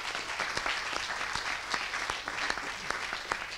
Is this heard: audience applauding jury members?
yes